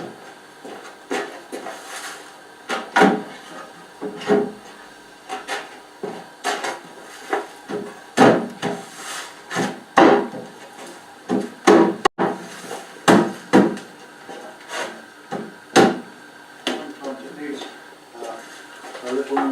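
Carved oak chest parts are test-fitted together, giving repeated sharp wooden knocks and clunks at an irregular pace, close by, with someone talking between and over them.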